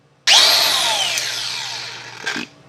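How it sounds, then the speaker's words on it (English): A Milwaukee M18 cordless angle grinder whirs up abruptly to a loud high whine, then the pitch falls as the electric brake slows it, ending with a short clunk as the disc stops. "So today I am reviewing the M18 Milwaukee angle grinder."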